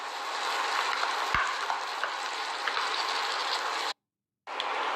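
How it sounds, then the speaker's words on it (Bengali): Cauliflower paste fries in butter in a pan with a steady, close sizzle and a few faint scraping clicks, cut off by a brief silent gap before the sizzling resumes. "ফুলকপিটা ভাজা ভাজা হচ্ছে"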